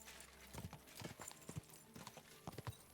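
Steady clip-clop of horse hooves from riding in Kingdom Come Deliverance II, a rhythmic trot of close, distinct hoofbeats heard alone.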